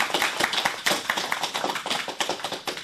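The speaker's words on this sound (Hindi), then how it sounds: "तो चलो तालियों के साथ उन्हें बुलाते" An audience applauds to welcome two young schoolgirls onto the stage at a school event, with a loud, dense burst of many hands clapping that holds steady for the whole stretch.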